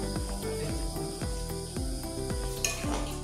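Chicken karahi sizzling loudly in hot oil as more oil is added, a continuous crackling fry with rhythmic stirring scrapes about every half second and a brief metallic clink near the end.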